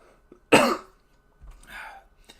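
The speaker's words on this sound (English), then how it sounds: "I got a cough" A single sharp cough, followed by a softer throat-clearing sound, in an otherwise quiet setting.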